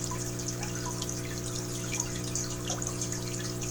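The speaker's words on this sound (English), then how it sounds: "So let's add the water to this tank." Water pours into a fish tank as a steady close rush and trickle with scattered drips, over a constant low mechanical hum.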